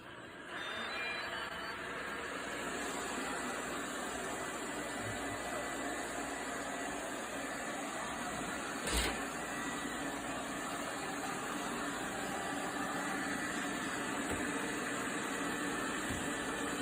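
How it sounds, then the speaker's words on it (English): A robot vacuum cleaner runs continuously, giving a steady, even whirring hum with a faint broadband hiss and a brief bump near the middle, with no talking over it. "today I'm going to show you all how to use your robot vacuum cleaner"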